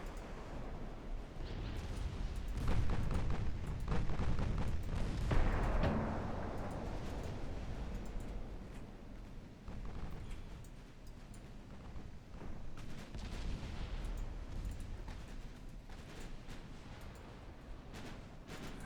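Naval gunfire in the warship game Ultimate Admiral Dreadnoughts, heavy booming salvos and rumbling blasts that come in clusters early on before settling into a low, sustained rumble, with no talking.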